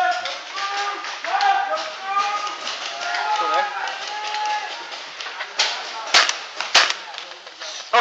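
Paintball guns firing outdoors during a game: quick popping shots, a few close and sharp near the end, with players shouting over them.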